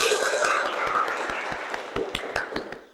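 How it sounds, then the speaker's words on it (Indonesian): Junior high students in a classroom clap their hands together in a sharp, rhythmic run of claps that speeds up toward the end, after a brief murmur of voices at the start. "Tepuk tangan."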